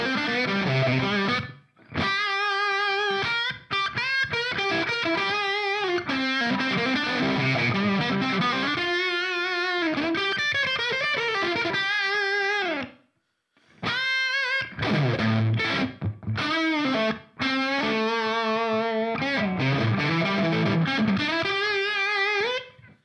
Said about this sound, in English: I tried to use like the Bluesbreaker amp